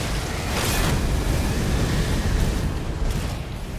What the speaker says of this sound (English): Just casually blocking his explosion.